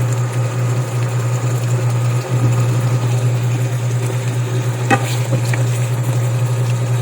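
Chicken liver adobo cooks in a pan while being stirred. A continuous low simmer with a steady hum runs throughout, with a few faint scrapes and clicks near the middle.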